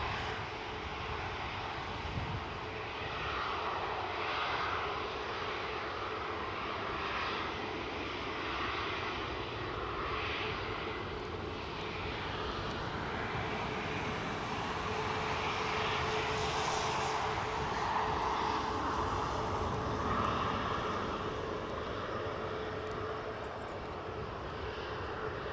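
A Jet2 Holidays airliner bound for Paphos at Newcastle Airport on a snowy, gusty crosswind day gives a steady, distant engine roar that swells slightly midway, with wind noise and no talk.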